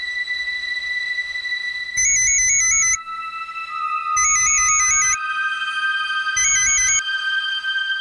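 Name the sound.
phone ringing on an outgoing call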